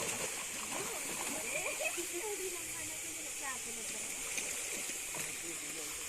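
Brahmankund waterfall at Bangriposi in Mayurbhanj, a constant rushing splash of falling water with steady hiss, close and unbroken, with faint voices mixed in.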